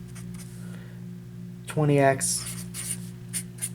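A pen scratches briefly on paper or a board during an algebra lesson, a short burst of writing sounds heard under a steady electrical hum with someone speaking.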